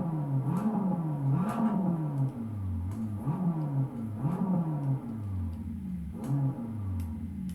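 BMW M3 engine in the racing game Assetto Corsa, revving up and down in repeated surges, a mid-pitched engine note rising and falling rhythmically, loud and close with no talking.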